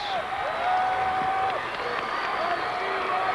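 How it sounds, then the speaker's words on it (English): Home crowd in a gym at a 2004 high school state championship basketball game, with Osseo Orioles fans cheering and clapping as a steady wash of noise, squeaking sneakers audible over it. "This Oriole crowd is getting into it."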